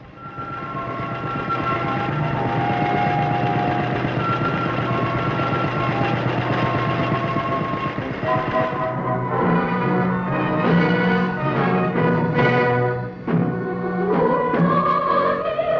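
A light aircraft drones over rural Korean farmland while spraying pesticide, its engine a continuous, fairly loud hum that later blends with a shifting, music-like layer.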